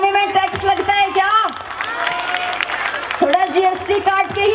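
An audience claps and cheers at a Bhojpuri devotional song performance, a dense wash of applause and crowd noise that swells and fades, with voices or singing breaking through at the start and end.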